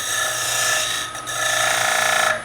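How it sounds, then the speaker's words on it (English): Skew chisel used as a scraper on wood spinning on a lathe, a close, steady rasping hiss over the hum of the running lathe, with a brief dip midway. "I'm using the skew as a scraper. Simply to shape that."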